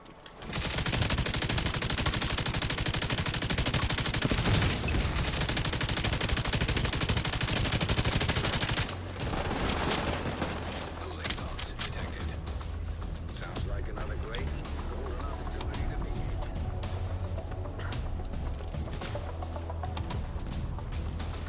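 Machine gun fire rattles in The Division 2, a dense, loud continuous burst for several seconds, then sparser, choppier shots and impacts under someone talking.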